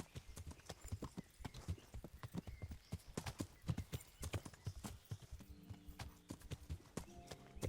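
Horse hooves clip-clop steadily along a hillside path in the medieval video game Kingdom Come: Deliverance, a brisk rhythmic trot with a brief whinny, faint tones entering near the end.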